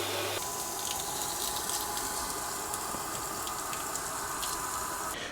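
Fresh water from a bucket runs through a motorhome's fresh water system, a steady, continuous rushing flow that starts abruptly and holds at an even level for several seconds before stopping.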